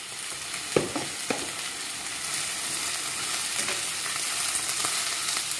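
Onions and tomatoes frying in hot coconut oil give a continuous close sizzle, with a couple of scraping stirs early on over the steady crackle.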